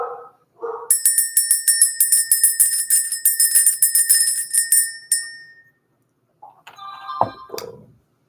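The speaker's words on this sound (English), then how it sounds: "Let's ring the bell." A small bell struck repeatedly in a quick, steady series for about four seconds, bright and ringing, then a few softer tinkling strikes near the end after a pause.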